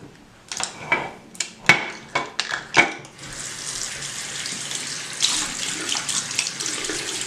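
Dirt is rinsed from a makeup brush under a running tap: a few sharp splashes and knocks at first, then a steady, close gush of water pouring into the sink.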